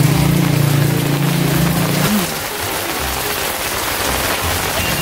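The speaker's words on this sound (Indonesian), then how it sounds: "Hujan mulu dari kemarin ya." Heavy rain pouring steadily as a loud, continuous broadband hiss, with a low tonal hum fading out after about two seconds.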